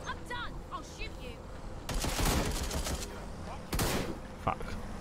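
Gunfire in the video game Watch Dogs Legion, with two loud bursts of rapid shots rising over a busy game soundscape and faint background talk.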